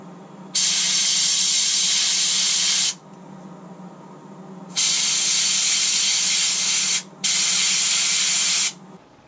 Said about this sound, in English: My first plan for coating the lure was to use this rattle can lacquer